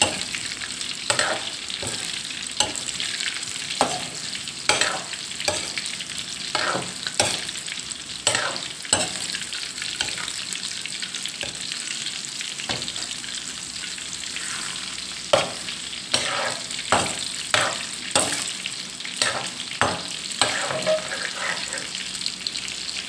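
Round Thai mackerel fish cakes fry in hot oil with a steady sizzle, broken by frequent clicks and scrapes as they are turned and stirred in the pan.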